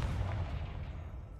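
A Bombarda spell explosion in the video game Hogwarts Legacy lands as a deep, rumbling boom that fades over about a second.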